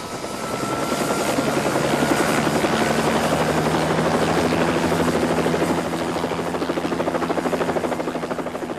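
A helicopter flies steadily overhead in rural Colombia, carrying emeralds from the Muzo mine toward Bogotá; its rotor makes a loud, continuous chopping drone with a whirring engine whine, with no voices.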